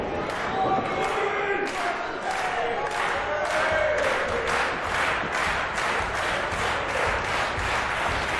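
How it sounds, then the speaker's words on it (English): A wrestling crowd roars steadily at an IWC show, loud and close, with rhythmic clapping or chanting pulses running through the din and a voice talking over it. "Crowd coming alive for the man who claims to infect the world."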